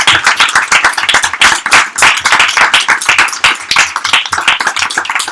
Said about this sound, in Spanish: vamos a dedicarle un aplauso